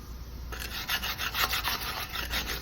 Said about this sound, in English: just take a piece of aluminum with a little bit of sticky sandpaper on it, and I get in there the area I couldn't get before